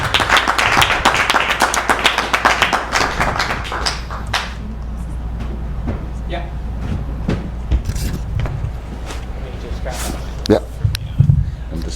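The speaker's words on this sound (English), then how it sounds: "All right, another round of applause for all of our awesome demos" An audience at a tech demo night claps, with dense, loud applause over the first few seconds. It then thins into scattered claps, taps and murmuring crowd noise.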